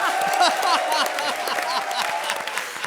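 A studio comedy show audience claps steadily, a dense patter of many hands at moderate volume, lasting throughout.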